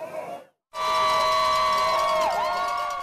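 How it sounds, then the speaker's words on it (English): Crowd of marathon spectators cheering runners along a rainy race route, a loud sustained roar of whoops and shouts that swells after a brief silent gap. "there were still plenty of fans out here along the marathon route to cheer them on"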